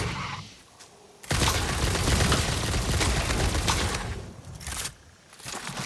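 Gunfire from a weapon in the Satisfactory video game, a sustained dense burst of rapid shots lasting several seconds after a brief lull, then stopping and starting again near the end; no talking.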